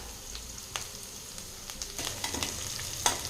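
Green chillies and curry leaves fry in a pan for a Tamil beetroot poriyal, giving a soft, steady sizzle broken by a few light crackles and pops.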